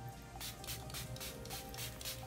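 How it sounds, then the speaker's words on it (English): A MAC spray bottle sprays in several quick, close hissing bursts in an even rhythm over a faint steady background hum. "So when you spray, it like really goes out."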